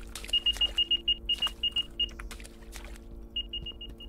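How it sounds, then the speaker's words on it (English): Terminal in a video game beeping in a rapid run of short, evenly spaced high tones, about a dozen, then a pause and a shorter second burst, over a low background hum. "I just also want to hear the beep noise."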